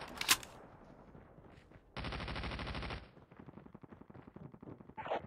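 Gunfire in a video game: a sharp shot opens, then a dense burst of rapid automatic fire rings out for about a second, followed by quieter crackling shots and a final loud report.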